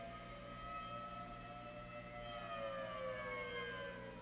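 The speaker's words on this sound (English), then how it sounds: "I think they finally shut the sirens off in Grand Rapids." Tornado warning sirens sound during severe spring thunderstorms in Grand Rapids, Michigan, several wailing tones sliding slowly downward in pitch, steady and continuous over a low background rumble with no talk.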